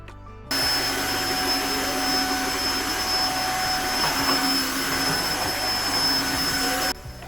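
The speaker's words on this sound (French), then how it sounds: "mon super petit Nico vient aspirer et laver en même temps mon sol" Robot vacuum cleaner vacuuming and mopping a floor at home, a steady, loud whirring hum with a faint whine that starts abruptly, runs unchanged for several seconds and cuts off near the end, with no voices.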